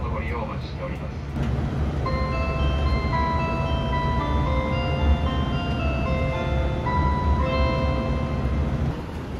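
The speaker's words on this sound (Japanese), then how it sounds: "JR 四国チャイムを聞きながら岡山駅に到着いたしました" A JR Shikoku train arriving at Okayama station while its onboard arrival chime plays, a clear melodic sequence of bell-like tones repeating over the steady rumble of the moving train.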